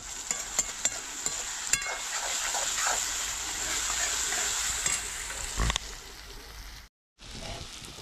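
Potatoes added to frying masala in a pan and stirred: bright continuous sizzle with a few sharp clatters and scrapes near the start, a louder clunk before the end, then a brief silent gap.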